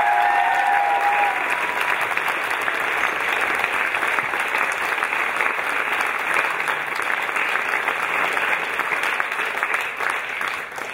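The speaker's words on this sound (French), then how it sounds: "Donc je vous demande d'applaudir." A concert audience applauds loudly and continuously for about eleven seconds, a dense, even wash of clapping from a large crowd, easing off only at the very end.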